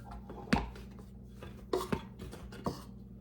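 A bench scraper presses through floured scone dough for cranberry orange scones and thumps onto a board, giving four or five distinct close knocks with quiet gaps between them.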